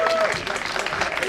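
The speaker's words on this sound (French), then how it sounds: "S'il vous plaît, applaudissements pour le roi et la reine." A crowd claps steadily for the king and queen at an Ivorian royal court procession, a dense, continuous wash of applause with voices mixed in.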